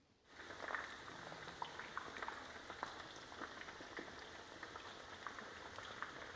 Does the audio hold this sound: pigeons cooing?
no